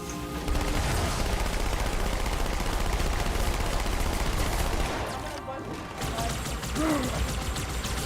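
Gunfire in the video game Halo 2, loud rapid bursts of automatic weapon fire that run almost continuously, then briefly pause and resume, with game sounds mixed in.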